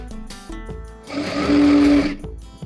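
A sewing machine stitches a Patiala salwar in short whirring bursts, rising to one longer, louder run of needle hum before slowing.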